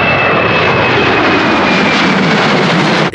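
Jet airliner passing overhead outdoors in the Canadian wilderness, a loud, broad, steady engine roar that fills the whole stretch without talk.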